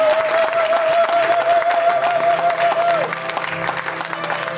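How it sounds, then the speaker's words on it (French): An audience at a memorial thanksgiving service breaks into loud, sustained applause, with dense clapping and crowd noise that holds for several seconds as a voice speaks over it. "Est-ce qu'on l'acclame encore?"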